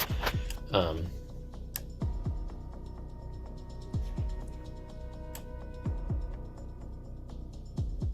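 A security camera clicks as it switches between infrared and regular lighting, giving sharp, fairly close ticks spaced every second or two over a steady low hum, with brief speech at the start.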